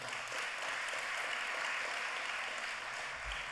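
Applause from a large congress audience at a closing ceremony, steady and even throughout, dense clapping with no clear voices on top.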